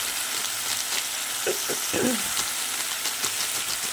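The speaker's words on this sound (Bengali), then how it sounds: "মটরশুঁটিটা দেওয়ার পরে আবারও নেড়ে চেড়ে নেবো ভালো করে" Steady sizzling of green peas frying in a pan with spices, with a few soft scraping stirs, close and continuous with no talking.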